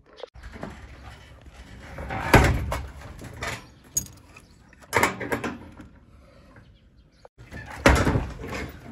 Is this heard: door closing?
yes